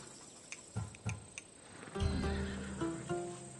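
A horse in a PS4 game whinnies in a clear, fairly loud burst that rises and trails off, preceded by a few soft clopping hoof-like clicks, with no talking over it.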